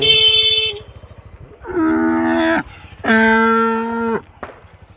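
Several loud, drawn-out cow moos in succession from a herd walking along a road, harmonic and close, with a low rumbling background and a short horn-like blip at the end.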